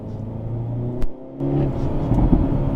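A 2024 Hyundai Elantra N with a six-speed manual blips and revs sharply on a downshift, briefly cuts out, then rises again in a rumbling, climbing drone close by.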